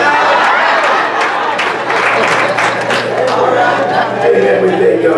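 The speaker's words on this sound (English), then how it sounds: "Y'all doing all that clapping?" Dense applause from a church congregation fills the space, steady and loud throughout, with voices mingling underneath.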